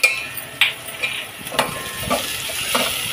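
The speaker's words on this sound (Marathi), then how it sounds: "आता टोमॅटो घाला, टोमॅटो पण छान परतवून काढा." Tomatoes frying with onions and green chillies in a pan for dal fry, giving a steady soft sizzle with occasional stirring scrapes and clinks from a spoon against the pot, heard close with no talking.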